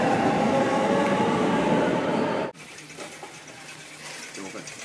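A packed local commuter train in Tokyo rumbles loudly with a broad steady roar, then drops abruptly to a quieter interior hum with faint rattles and murmuring.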